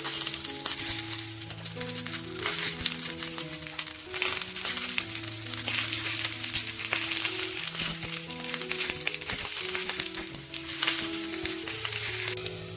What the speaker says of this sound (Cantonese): 細火放入去嗰啲番茄鐘。